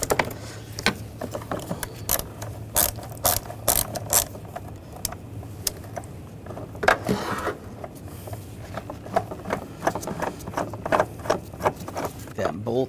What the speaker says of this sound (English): Down on the side of the battery, there's a hold down. You're going to use a 13mm socket.